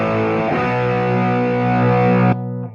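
Electric guitar played through a Dark Matter overdrive pedal, a thick distorted chord struck and left ringing for about two seconds before it is cut off, loud and alone.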